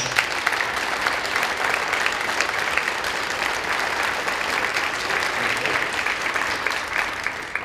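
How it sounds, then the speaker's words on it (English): Full, steady applause from the audience at a middle school band adjudication concert, loud and continuous throughout, with faint murmurs under the clapping. "I'd like to give a round of applause and thank Mr. Bebo for being our resident judge"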